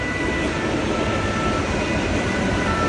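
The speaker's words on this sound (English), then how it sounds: "that's the train, y'all," A train passing in Paris, a loud, continuous rumbling roar with a steady metallic whine, close by and alone for the full stretch.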